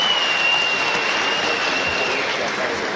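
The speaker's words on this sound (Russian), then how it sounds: "Ваши аплодисменты." A boxing crowd applauds in a steady, dense roar of clapping that holds at the same level throughout, with no talk standing out above it.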